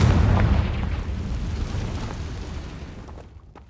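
A Confringo fire spell explodes in the Hogwarts Legacy game, a single loud deep boom that starts strong and rolls off into a long fading rumble over a few seconds, with no voices.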